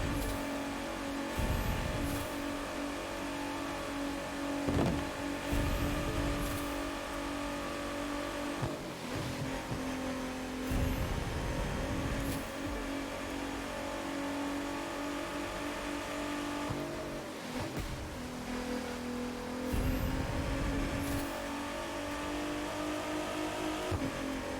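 Car engines in The Crew 2 drone steadily through a racing game on long straights, with repeated revs and gear-shift dips every few seconds, loud and continuous with no talking.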